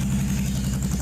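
A motorcycle engine turns over and tries to fire after its carburetors were given starter fluid, a steady low mechanical churning rumble that runs unbroken and close throughout.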